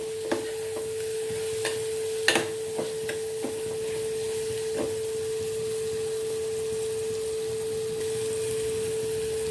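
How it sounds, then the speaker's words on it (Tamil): Masala for a brinjal gravy cooks in a pan, with a few sharp scrapes and clinks of a spoon stirring at the start, then a steady low hiss with a constant tone running under it. "நல்ல மசாலாவும் இதோட நல்லா கலந்து நல்லா வேகட்டும்."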